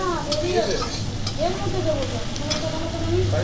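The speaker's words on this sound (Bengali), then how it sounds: "চিংড়ি মাছটা দেওয়া হয়ে গেল, আর একটু নাড়িয়ে নেব।" Boiled shrimp and vegetables are stirred in an oiled frying pan at home, with a steady sizzle and scraping strokes of a spatula while someone talks over it.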